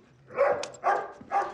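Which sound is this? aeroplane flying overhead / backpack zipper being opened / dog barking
dog barking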